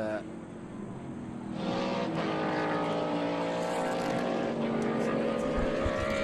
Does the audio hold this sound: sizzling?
no